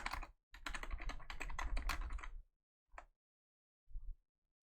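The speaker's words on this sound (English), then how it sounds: "I know I have a loud keyboard." A loud computer keyboard clatters in a quick, dense run of keystrokes for about two seconds, then falls quiet except for two isolated taps, close and clear with no talking.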